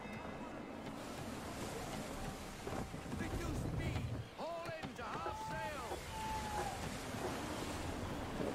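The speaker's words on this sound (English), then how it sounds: "Wind looks to be shifting. Stay alert, Connor. Gusty winds can be difficult to manage." Gusty wind and sea wash steadily while sailing a ship in Assassin's Creed III, with a voice speaking partway through and creaking tonal sounds rising over the continuous rush.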